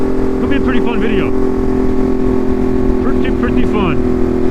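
A steady, loud idle from a Ducati Monster fitted with an SC Project exhaust holds unchanged throughout, with a voice speaking on top of the engine note.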